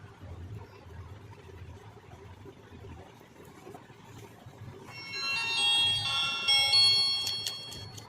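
A Lava A1 phone with a newly fitted speaker plays its ringtone. A bright, tinny electronic melody starts partway through after a stretch of quiet room noise and stays close and moderately loud.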